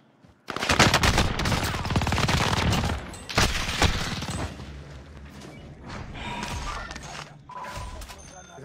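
Rapid bursts of Call of Duty: Warzone gunfire rattle for a few seconds, followed by scattered shots and mechanical clicks, with voices talking underneath.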